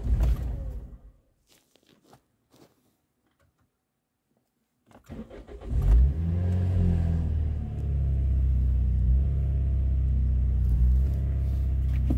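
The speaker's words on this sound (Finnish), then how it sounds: "nyt pääsee kokeilemaan, että lähteekö tämä edes käyntiin ja mitä tapahtuu" A Toyota Auris (Corolla E15) fitted with a larger throttle body cranks after a long near-silent pause, then catches and settles into a loud, steady idle with a few rises in revs, close to the microphone.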